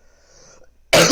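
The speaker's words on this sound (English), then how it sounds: "Each time I cough, I like deafen everyone in watching." After a moment of near silence, a single loud, harsh cough bursts out close to the microphone.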